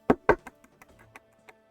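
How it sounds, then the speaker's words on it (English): Knocking at a door: two firm, loud knocks followed by a string of lighter, quicker taps that trail off, with no voices. "knock at the door"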